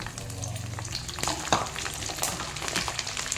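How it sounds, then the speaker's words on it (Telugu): Mango ginger sizzling and frying steadily in hot oil in a pan for a red chili pickle, a continuous crackle with a few louder pops and stirring scrapes, close by, no talking. "చూడండి ఈ రకంగా వేగాలి"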